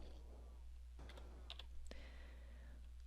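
Fingers tap a computer keyboard while entering a formula into a spreadsheet, giving a few sparse, quiet clicks and keystrokes over a steady low hum, with no voices.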